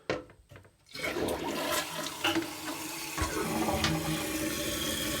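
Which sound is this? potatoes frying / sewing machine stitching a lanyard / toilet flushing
toilet flushing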